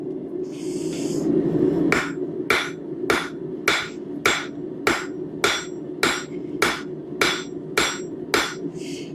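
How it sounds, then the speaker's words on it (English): Hot metal at a forge struck against the edge of an anvil to draw a taper, about fourteen evenly spaced ringing hammer blows, loud and close, following a brief spray-like hiss at the start. "smacking it off of the edge of the anvil is actually creating a much more aggressive taper"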